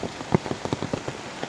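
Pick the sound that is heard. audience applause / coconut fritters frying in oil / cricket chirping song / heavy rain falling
heavy rain falling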